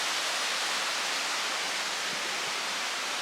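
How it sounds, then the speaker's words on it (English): A small waterfall stream on the Appalachian Trail pours steadily, a close, constant broadband rush of water filling the whole moment with no voices. "Nice little flowing waterfall stream that we're following."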